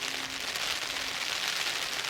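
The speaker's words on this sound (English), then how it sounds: "it's hammering down with rain" Heavy rain falls at a river at Nun Monkton on a windy, flooded September day, making a steady, even hiss that holds throughout with no voices.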